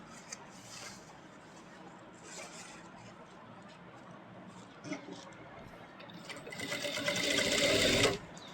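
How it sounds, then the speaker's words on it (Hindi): Sewing machine stitching the collar of a kurti, a soft mechanical whirr with light ticks that speeds up into a louder, continuous run of rapid stitching near the end, heard close up. "ये देखो, अब हम सिलाई लगाएंगे।"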